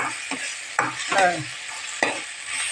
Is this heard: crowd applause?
no